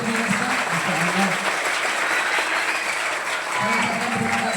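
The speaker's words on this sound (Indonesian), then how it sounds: "Tepuk tangan dulu dong untuk anak-anak semuanya, luar biasa." Sustained applause from a crowd at an elementary school Isra Mi'raj event, clapping steadily and fairly loud throughout, dipping briefly before picking up again, with a voice talking faintly underneath.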